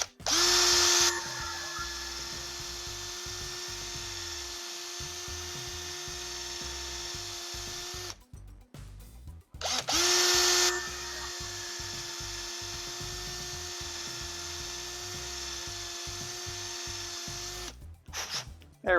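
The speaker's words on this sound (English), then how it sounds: "Right when you pull it out, ream out your hole" A power drill reams out a hole in a cold plastic part for a Tekno EB48 2.1 RC car build, running in two long loud whirring bursts with a short pause and clicks between them.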